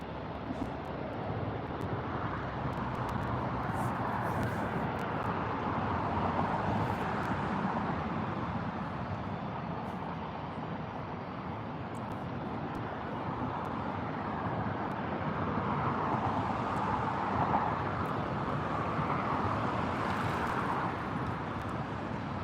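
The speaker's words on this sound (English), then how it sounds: "And we've got an EasyJet from Milan Linate A319, just under 2 miles out" An EasyJet Airbus A319 from Milan Linate approaching London Gatwick, a broad steady jet roar with slowly swelling rumble heard from a distance, mixed with wind buffeting the microphone.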